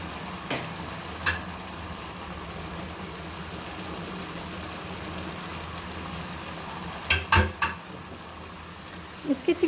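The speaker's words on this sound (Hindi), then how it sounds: "अभी हम इसकी टोमेटो जो हमारे पास टमाटर है इसको हम अच्छे से मैश कर देंगे, मिक्स कर देंगे चिकन के साथ।" Chicken and tomatoes being mashed and stirred together in a karahi, with a soft steady sizzle throughout and a few sharp knocks and scrapes of the utensil against the pan, no talking.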